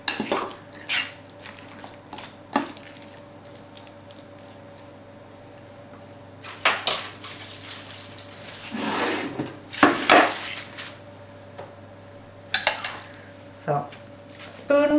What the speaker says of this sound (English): So, spoon the stuffing back into the skins